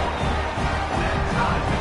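Stadium crowd at a Missouri at Charlotte college football game roars steadily after an extra point, a dense, sustained wall of cheering and shouting with no break.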